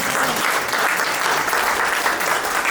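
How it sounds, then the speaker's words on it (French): A church congregation at a wedding dowry ceremony applauds loudly and steadily, a dense, continuous wash of clapping with some cheering that fills the whole moment without pause. "on acclame très fort pour le roi de Dieu"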